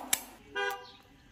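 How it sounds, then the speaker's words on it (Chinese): A car horn sounds in a village early in the morning, one short sharp toot followed by a longer tonal honk about half a second later, heard fairly close with no speech. "刚进村的时候我就听到这个喇叭声响啊"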